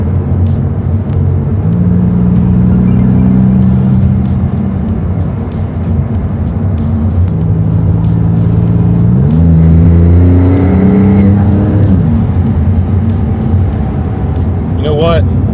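A 2022 Maserati MC20 engine revs hard under acceleration, loud and close, with its pitch climbing in steps through the gears and a steady rumble underneath.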